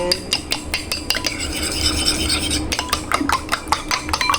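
Eggs beaten in a bowl with a utensil for ginisang ampalaya, a rapid run of close, sharp clinking taps that briefly smooths into steady whisking before the quick taps resume.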